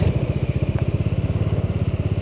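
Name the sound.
Bajaj Dominar 400 motorcycle engine braking downhill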